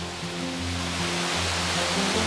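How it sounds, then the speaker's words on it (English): A very tall waterfall at Machine Falls, water pouring over rocks in a loud, constant broadband rush heard close, with no talking. "Very tall waterfall."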